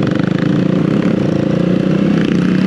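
A CCM Stealth Bobber motorcycle engine running close by, a steady, loud, rumbling drone with a throbbing beat and no voices over it.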